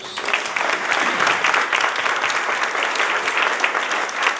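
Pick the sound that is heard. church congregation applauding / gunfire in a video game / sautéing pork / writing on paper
church congregation applauding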